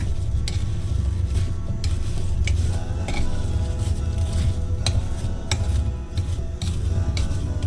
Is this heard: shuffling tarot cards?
no